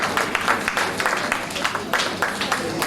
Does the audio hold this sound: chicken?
no